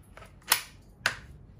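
Two sharp shots from an airsoft bolt-action sniper rifle, a pair of crisp pops about half a second apart, close and clean with no talk.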